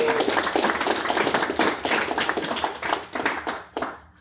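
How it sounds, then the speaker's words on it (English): Steady applause from a crowd at an online marketing event, dense clapping that stays loud throughout, then starts to thin out near the end. "if we could give them a round of applause, I'd appreciate that"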